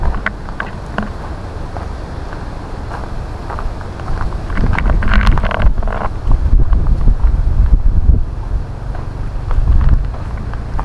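Wind gusts through a shady grove of trees, a rough, rumbling rush buffeting the microphone, swelling stronger in the second half.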